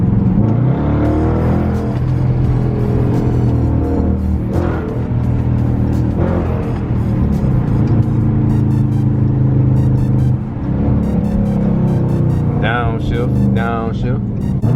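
A Dodge Charger RT 345 on a night drive accelerates hard from first gear with a deep sustained engine roar, then downshifts with rising rev blips near the end, while someone talks over it.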